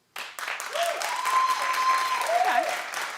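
Studio audience at a talk show breaks into applause, a sustained burst of clapping and some cheering that starts abruptly and holds for about three seconds, with a voice calling out over it.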